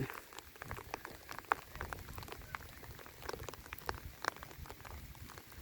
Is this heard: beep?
no